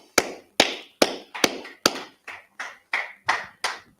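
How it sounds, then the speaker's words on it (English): Sharp, close hand claps ring out about ten times in a steady, even rhythm, each a crisp slap with a short decay and nothing else heard between them. "Clap it up."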